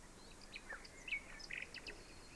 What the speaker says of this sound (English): Here's another bird which you might recognise. It's a blue tit.